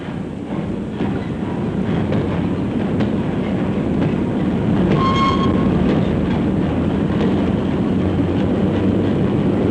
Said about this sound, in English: The little puffing billy cane trains carry the stalks to the crushing mills.